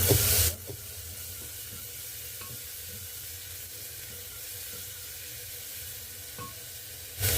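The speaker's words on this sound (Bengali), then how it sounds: "পেঁয়াজগুলো একটু ভাজার পরে এখন রসুন দিয়ে দিচ্ছি আদা দিয়ে দিচ্ছি" Garlic and ginger frying with onions in a pan, a soft, even sizzle and hiss held for several seconds with faint stirring ticks, bracketed by louder bursts at the start and end.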